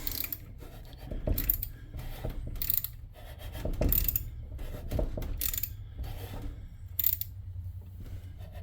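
EZGO golf cart engine turned over by hand during a valve adjustment, with oil added to the cylinder: a series of close mechanical clicks and ratcheting knocks in irregular bursts as the valves open, over a low steady hum.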